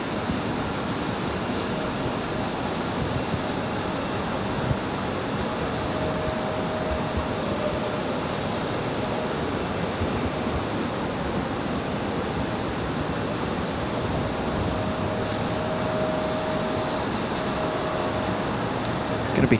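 A jet airliner on slow final approach at Raleigh-Durham in near-zero visibility gives a continuous, loud engine roar and rushing hiss that holds steady for the full stretch, with no voices over it.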